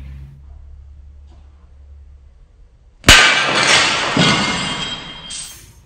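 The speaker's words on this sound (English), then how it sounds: "So antique glass, it shatters into a million different little pieces just like this." A pane of antique window glass shatters all at once with a sharp crash, then bright tinkling shards keep falling and scattering for a couple of seconds; close and loud after a quiet start.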